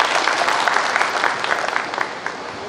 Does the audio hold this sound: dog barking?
no